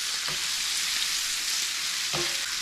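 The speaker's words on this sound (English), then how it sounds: "Our bacon's already cooking up nicely." Bacon and potato frying in a cast iron pan over high heat, giving a steady close sizzle and crackle with a couple of soft scraping stirs, no voices.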